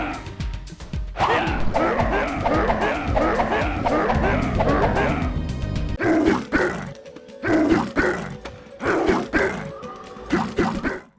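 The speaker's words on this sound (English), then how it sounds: "There's more growling, it's more bassy, it's more like guttural, essentially." Growling, guttural attack vocalizations from a character in an early PlayStation build of the T'ai Fu game come in rapid repeated bursts, loud and bassy, with choppier snarls toward the end.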